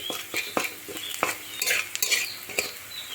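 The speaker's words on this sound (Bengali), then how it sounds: "পেঁয়াজটা হালকা ভাজা ভাজা হয়েছে" Onions fry in oil in a pan while a spoon stirs them, sharp scraping clinks of metal against the pan over a continuous sizzle, with no voices.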